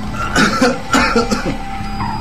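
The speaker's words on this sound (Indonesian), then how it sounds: "Bapak lagi batuk, Nak." A few harsh coughs burst out close by in quick succession, loud against a steady background hum.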